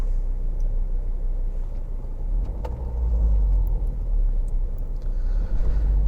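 A car drives through slow traffic around Canterbury, its cabin filled with a low, steady engine and road rumble, with a few faint clicks and small knocks over the drone and no talking.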